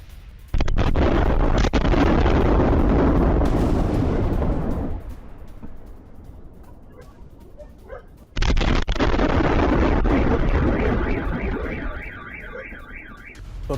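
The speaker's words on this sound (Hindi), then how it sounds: "कीव पर बैलिस्टिक मिसाइलों से हमला किया गया।" Explosions from a ballistic missile strike on Kyiv: two long, loud roaring blasts several seconds apart, each fading into distant rumble, with a wavering alarm-like wail after the second.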